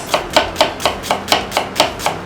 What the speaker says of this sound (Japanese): では玉ねぎはみじん切りにしていきます。